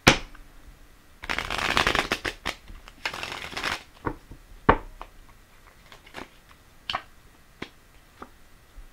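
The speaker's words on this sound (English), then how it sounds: "I'm going to lay 3 more cards and then pull 3 more Sabila cards." Tarot and oracle cards are shuffled in two loud close bursts, then laid down one by one with crisp, sharp slaps and snaps at irregular intervals.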